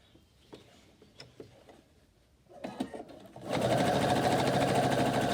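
A sewing machine stitches a washable sanitary pad. Scattered light handling clicks come first, then the motor starts and runs in a loud, steady, continuous whir to the end.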